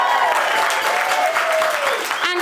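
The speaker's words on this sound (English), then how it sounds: "Can we have a big cheer for how beautiful she looks today?" Wedding guests burst into loud, sustained applause and cheering for the bride during the speeches, a dense close roar of clapping that holds steady throughout.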